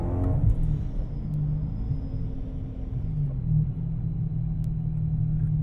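A BMW S65 V8 pulls hard under acceleration with a deep, steady rumble that swells and eases across several seconds, heard from inside the car without talk.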